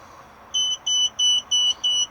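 A BMW E46 warning chime sounds just after the ignition is switched on: five evenly spaced high electronic beeps, each about a fifth of a second long, clear and steady against a quiet cabin.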